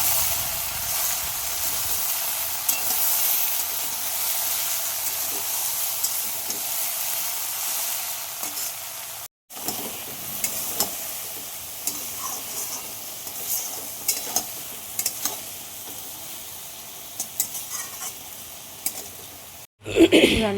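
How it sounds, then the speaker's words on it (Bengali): Potatoes fry in a pan, a steady close hiss and sizzle broken by frequent scraping stirs, with brief cuts partway through and near the end. "আর একটু আলু ভাজা করবো"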